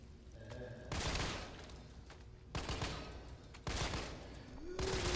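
Heavy gunfire bursts in Resident Evil 3 Remake, several loud, broadband blasts spaced a second or so apart over a rumbling game background.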